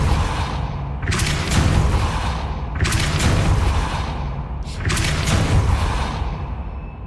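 Depulso spell cast repeatedly in Hogwarts Legacy: three loud, forceful bursts with a whooshing boom, each fading into a rumbling tail, spaced about two seconds apart.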